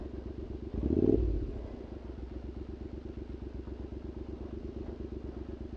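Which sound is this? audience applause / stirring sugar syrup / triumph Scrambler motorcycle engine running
triumph Scrambler motorcycle engine running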